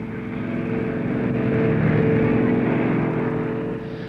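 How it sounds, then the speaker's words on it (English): Mountbatten class SRN-4 hovercraft on the Dover to Calais crossing, a loud steady engine and lift-fan roar with a droning whine, swelling slightly and holding close throughout. "The Mountbatten class SRN-4 carried 250 passengers and 28 cars at a rate of 40 knots from Dover to Calais"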